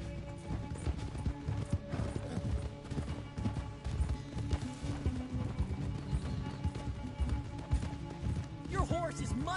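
Horse galloping in Red Dead Redemption 2, rapid rhythmic hoofbeats mixed with game sounds and people talking throughout, fairly quiet overall.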